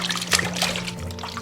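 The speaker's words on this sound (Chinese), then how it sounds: "接着我们把鸭爪清洗干净" Duck feet are rinsed under a running kitchen tap, giving a short burst of trickling, gently splashing water close by.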